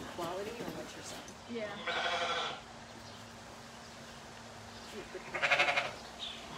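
Sheep bleat twice at a sheep shearing event, wavering calls close by, with people talking around them.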